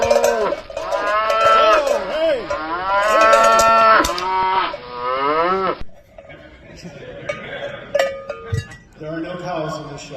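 A sound effects artist imitates a cow with the voice, giving several long, loud, wavering moos up close, then trailing off into quieter, scattered sounds.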